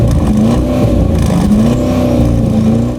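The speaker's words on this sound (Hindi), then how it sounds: "और ये है इसके इंजन का एग्जॉस्ट नोट।" Exhaust note from the Audi SQ8's 4-litre twin-turbo V8 petrol engine, a loud, steady low rumble with a rising, revving drone held for about three seconds, close to the listener.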